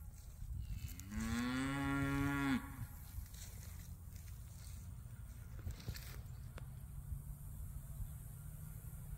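A single cow lets out one drawn-out moo at a moderate distance outdoors on a farm, followed by a quiet stretch of faint rural background noise.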